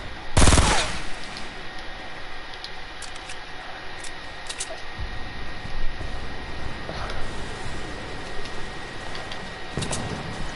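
Rapid gunfire from a burst weapon in the Fortnite video game, a loud opening shot followed by a dense, continuous rattle of game sound effects and faint background noise.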